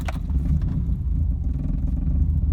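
A VW Corrado engine idles roughly after years in storage, giving a steady, close, low rumble with slight unevenness throughout, and no voices.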